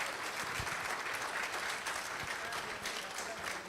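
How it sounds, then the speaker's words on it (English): Steady, dense applause from a delegates' conference audience, sustained and fairly even throughout with a few sharper claps standing out, no voices rising above it. "give yourselves a huge round of applause"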